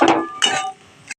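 A spoon scrapes and clinks against a pan in two short bursts while mashed potato singara filling is mixed with peanuts and fried spices.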